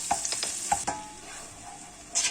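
Small onions frying in a pan of melted butter and oil, a steady close sizzle with several sharp stirring clicks near the start and a brief louder hiss near the end, no talking.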